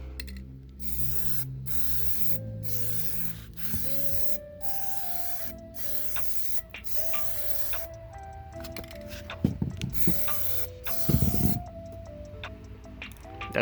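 Plastidip hisses from an aerosol can in steady bursts onto a Lexus GS300 grille, with brief pauses and a few soft clicks and rattles between passes, close by.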